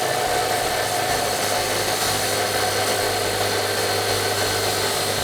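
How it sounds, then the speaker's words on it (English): A power tool cuts bolts down to 9 inches for a Supreme Suspensions lift kit on a 2005-2019 Toyota Tacoma. A loud, steady, continuous grinding drone runs unbroken throughout, with no talking. "We're gonna chop these down to 9 inches in total length."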